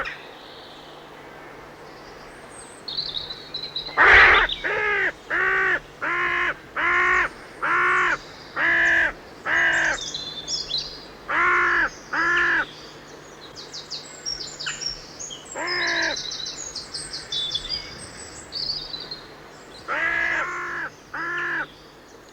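A crow gives a long series of loud, harsh caws in evenly spaced bursts, each about half a second, then pauses and calls again more irregularly over a faint steady hum, with no voices.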